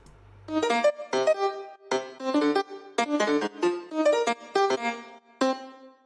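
A synth melody from arpeggiator loops set to random mode, with bright plucked notes in irregular quick bursts and short gaps, steady and fairly loud.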